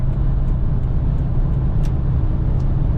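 An 11-year-old Toyota truck engine runs at a steady drone, a constant low rumble with road noise heard from inside the cab, without talk.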